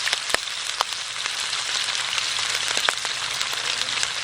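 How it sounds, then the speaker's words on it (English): Salmon sears in hot oil in a frying pan, giving a loud continuous crackling sizzle dotted with sharp spitting pops, close and steady throughout. "So we're just going to let that fry up and sear on both sides."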